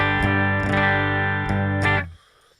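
An electric guitar through a clean amp preset, a single sustained strummed chord ringing with slight rhythmic picking before it is cut off into quiet.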